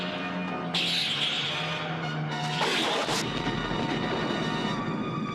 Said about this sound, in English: The explosion, it's like they blew up an M80.